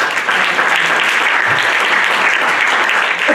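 Sustained applause from a conference audience at a business management event in a Bucharest hotel, dense and steady clapping throughout with no pauses.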